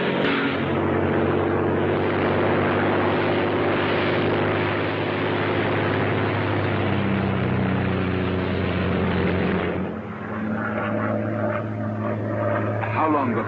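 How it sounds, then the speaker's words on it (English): A Royal Air Force propeller plane drones in flight, a loud steady engine hum that fills the scene and then eases slightly toward the end. "a Royal Air Force plane is waiting for us at a secret landing place"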